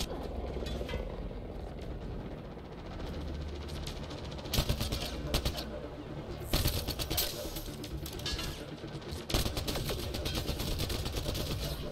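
Rapid automatic gunfire rattles through a firefight in Mass Effect Andromeda, with louder bursts cutting in over a dense, steady din of shots and combat noise.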